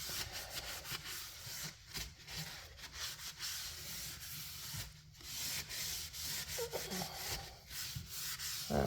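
Finish is rubbed by hand onto a wooden baseboard in continuous back-and-forth strokes, a close, scratchy scrubbing with brief pauses.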